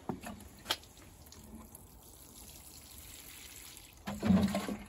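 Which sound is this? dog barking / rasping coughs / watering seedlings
watering seedlings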